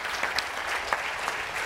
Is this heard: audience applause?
yes